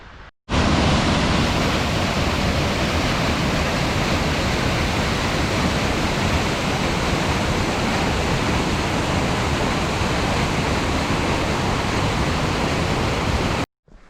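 A mountain waterfall cascades during an alpine climb in the Écrins, a loud, dense, continuous roar of rushing water filling the whole clip with no talk.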